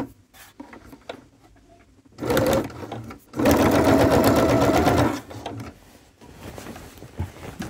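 Sewing machine stitching a polo placket at a 5 stitch width, running in two steady whirring bursts of about a second and two seconds, close and loud, with quiet fabric handling between them and no talk.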